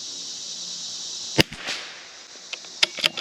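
A CZ 457 rifle fitted with an aftermarket trigger fires one sharp crack followed by a few lighter clicks and pops, close by against a faint steady hiss.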